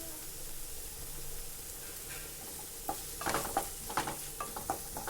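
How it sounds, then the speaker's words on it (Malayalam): Onion with green chilli and a pinch of salt sautés in a pan with a low continuous sizzle, then a run of scraping stirs and light utensil knocks toward the end. "ഒരു പിഞ്ച് ഉപ്പിട്ട് കൊടുത്ത് നന്നാക്കി ബ്രൗൺ കളർ ആകുന്നത് വരെ നമുക്ക് വഴറ്റിയെടുക്കാം"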